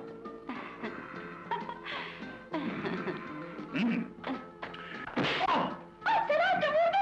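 Blows and kicks land in a scuffle in an old Turkish comedy film, with dull thumps and thwacks mixed among shouting voices and music, the hits irregular and fairly close.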